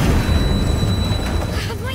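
Tank exploding in the video game A Plague Tale: Requiem, a loud, sustained deep boom and rumble filling the whole two seconds with dense low-end roar and a little crackle as it fades.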